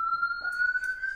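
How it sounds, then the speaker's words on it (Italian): Horn of a Land Rover Range Rover Velar 12V ride-on toy car, sounding as a steady electronic tone held for just over a second, loud and close, with no talk. "e il clacson."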